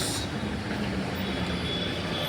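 Buses idling and moving at Rajkot bus stand, a steady low engine rumble with a brief hiss at the start, continuous and fairly close amid general traffic noise.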